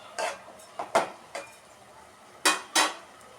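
Utensil scraping and clinking in a pot while vermicelli payasam is stirred, a handful of short, crisp knocks and scrapes spread unevenly with quiet gaps between them.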